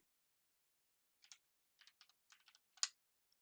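Someone types a short command on a computer keyboard in a terminal, a quick run of crisp, close key clicks in small clusters ending with one louder keystroke, with no talking.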